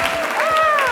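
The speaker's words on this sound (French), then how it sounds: "Applaudissez." A French studio audience applauds during a midday broadcast, a brief burst of clapping lasting about a second under a raised voice calling out over it.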